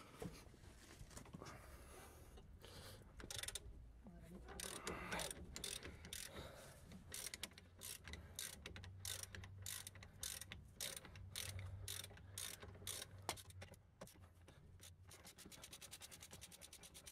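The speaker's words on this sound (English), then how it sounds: "Now I open the 2 bolts with an extended ratchet and an 18mm nut." Extended ratchet with an 18mm socket loosening the two caliper slide bolts on a Renault Megane Scenic RX4 during brake work, a steady stream of clicking, rubbing mechanical sounds with short ratcheting bursts throughout.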